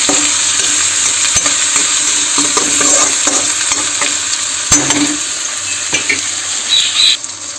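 Potatoes fry with tomato, salt and turmeric in a hot pan, giving a steady loud sizzle with intermittent scraping stirs and a couple of sharp knocks against the pan.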